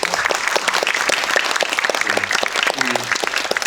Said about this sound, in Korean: 우리 신인 감독 김민주 감독에게 박수 한번 부탁드립니다.